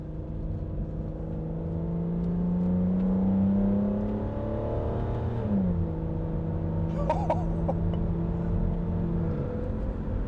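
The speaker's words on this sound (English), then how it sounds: "just downshifting and listening to that V12 over your back" Aston Martin V12 engine heard from inside the car, a deep sustained drone that swells, drops sharply as it downshifts, then settles into a steady revving note, loud throughout with no talking.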